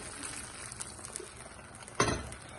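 Water splashes into a thickening chicken lollipop sauce on the stove, a sudden pour near the end over a faint low simmering bubble, close and brief.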